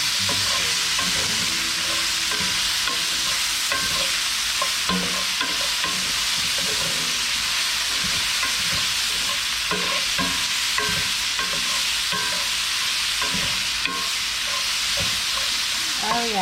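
Pork sizzles and spits in a skillet while a utensil stirs and scrapes through it, a loud, steady frying hiss with irregular stirring knocks and no voices.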